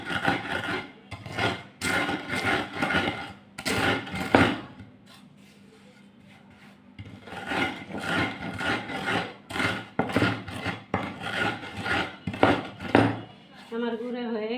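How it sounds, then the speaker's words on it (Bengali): Fried ingredients, chicken samosa roll filling, are ground into powder by hand with steady, loud rasping strokes, and a voice talks over most of it with a quieter pause in the middle. "এখন গুঁড়ো করবো"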